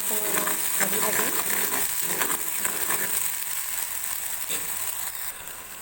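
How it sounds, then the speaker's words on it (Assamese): Shukoti dried fish chutney frying in a pan on an Assamese home stove, giving a steady, close sizzle with light stirring scrapes throughout. "এইখিনি কেঁচা গোন্ধ নাইকিয়া হোৱালৈকে অকণমান সময় ভাজি থাকিম।"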